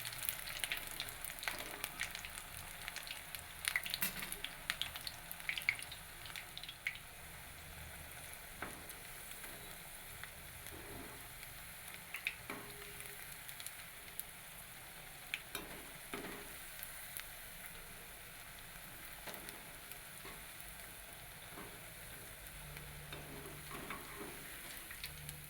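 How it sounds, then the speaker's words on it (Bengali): Cabbage pakoras fry in hot oil with a faint, steady crackling sizzle, dotted with small pops and occasional scraping stirs; no one speaks. "এবার আমি এগুলোকে উল্টে নিই অন্য দিকটা ভাজার জন্য।"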